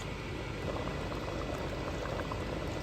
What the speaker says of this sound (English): It's still boiling, so just keep an eye on it and let it dry down.